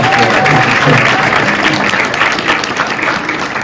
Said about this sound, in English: Let's give a bit of round of applause.